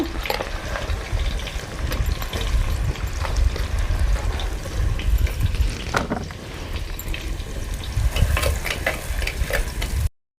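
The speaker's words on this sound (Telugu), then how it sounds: "ఆనియన్స్ అయితే వేసుకుందాం సన్నగా తరుక్కున్న ఎర్రగడ్డలు పెద్ద సైజు ఎర్రగడ్డలు రెండు" Two large, finely chopped onions fry in a clay pot over a wood fire, giving a loud, continuous close-up sizzle and crackle with occasional stirring and no talk, cutting off abruptly at the end.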